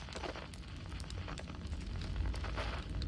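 A fireplace in the Outer Wilds video game catches light and crackles steadily, with a continuous bed of fire noise and scattered sharp pops throughout, fairly loud and alone.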